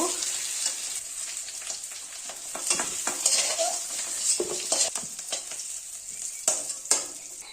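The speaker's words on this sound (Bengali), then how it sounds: "এইভাবে একটু লাল লাল করে ভেজে নেব" Potatoes fry in oil until reddish-brown while being stirred, so a soft sizzle sits under repeated scraping and clinking strokes of a utensil against the pan at an irregular rhythm.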